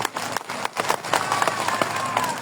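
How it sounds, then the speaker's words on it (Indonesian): Audience at a political campaign rally for a regent candidate in East Sumba applauds, irregular clapping that thickens into steady applause, fairly close and moderately loud. "Kita berikan tepuk tangan Bapak Ibu dan Saudara."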